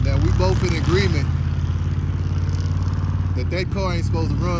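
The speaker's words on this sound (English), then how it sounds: "that car ain't supposed to run like that." A car engine runs roughly with a low, uneven idle rumble and a rhythmic pulsing, close and steady throughout, while people talk over it.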